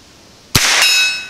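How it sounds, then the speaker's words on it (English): A Browning BL-22 Micro rifle fires one Armscor short round at a 50-yard target, a sharp crack followed by a bright metallic ring from the struck steel that lingers and fades. "I'm actually going to try to shoot that one to the left through the tree."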